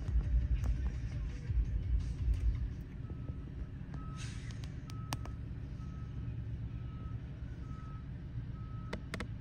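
A truck carrying a modular school classroom reverses around a tight corner, its backup alarm beeping at a steady interval over a low diesel rumble, with a hiss of air brakes early on.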